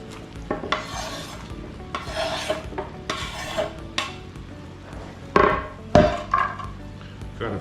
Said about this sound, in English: So let's go ahead and get this onion diced up.